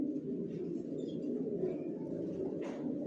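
Young racing pigeons of an original Johnson racer line coo softly and continuously in a loft, a low murmuring drone with a faint chirp near the end and no talking.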